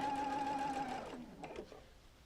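Sewing machine stitching the curved seam of a Double Wedding Ring quilt, a steady close whir running for about a second before cutting off, followed by faint handling sounds.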